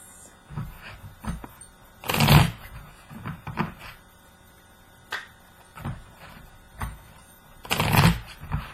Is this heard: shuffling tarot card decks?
yes